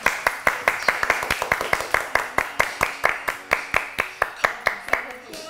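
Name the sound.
clapping during a livestream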